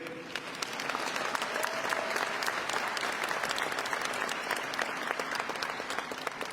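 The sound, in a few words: applause from audience in convocation center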